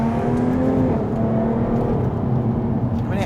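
A Jaguar F-type coupé engine roars loud and close, a thick, brash continuous growl with rising revs and a wavering pitch throughout, no pause and no talking.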